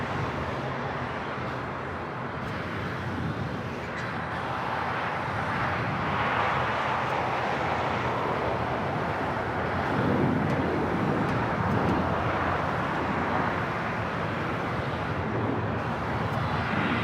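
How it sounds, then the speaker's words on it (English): A blue-striped Condor Airbus A330 arriving from Frankfurt at Los Angeles International Airport on the north side; a steady, distant jet engine roar swells gradually, mixed with wind noise, with no voices. "Condor A330, the blue striped, coming in from Frankfurt"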